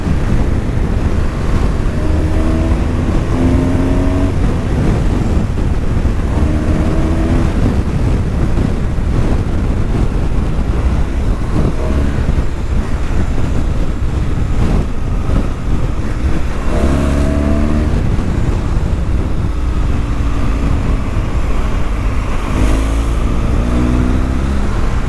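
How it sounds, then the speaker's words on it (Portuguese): A BMW 1200 motorcycle with an aftermarket exhaust pipe roars steadily and loudly throughout, with repeated revving surges rising and falling in pitch, the sound buffeted by heavy wind noise as if recorded while riding. "Essa moto só o cano, ela tem um ronco não gostoso pra caralho."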